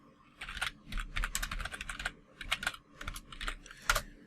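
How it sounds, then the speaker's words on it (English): Rapid clattering keystrokes on a computer keyboard while entering text into a Minecraft window, close and fairly loud, in irregular bursts with brief gaps and no voices. "you can type into your Minecraft window"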